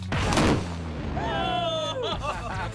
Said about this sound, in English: Those are exploding pants.